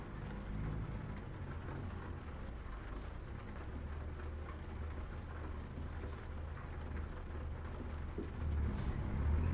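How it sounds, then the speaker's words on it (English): Steady rain falls in the video game American Truck Simulator, a dense constant hiss with low rumbling underneath that swells slightly near the end. "It's a beautiful rainy day."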